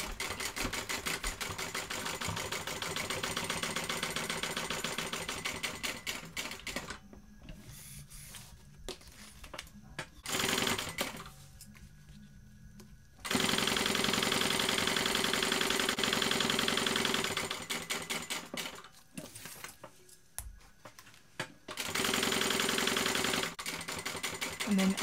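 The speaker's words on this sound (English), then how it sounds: "you can just leave your needle in and just sew around the outside again" A sewing machine stitches around the outside edge of a BeHip 2.0 bag in loud, rapid runs of whirring needle strokes, broken by short pauses and quieter handling between bursts.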